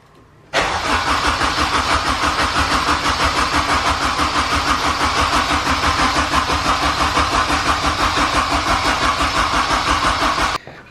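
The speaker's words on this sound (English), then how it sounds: "we're about to crank it for a wee minute just to let the oil kind of get around the new turbo" A Mazda RX-7 with a K-series engine swap and a new Garrett GTX3076R turbo cranks over continuously in a fast, steady rhythmic chug, loud and close, running for about ten seconds without catching.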